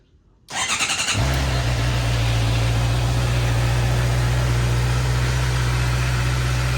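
A 2021 Honda CB650R motorcycle engine cranks briefly, then catches and settles into a loud, steady idle close by, after a K&N air filter replacement.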